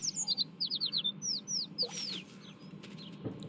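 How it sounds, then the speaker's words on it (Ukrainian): Quick, bright bird chirps from the Little Kitty, Big City video game come in a rapid run of repeated tweets, then one longer descending call, all over a steady low ambient hum. "Птиця."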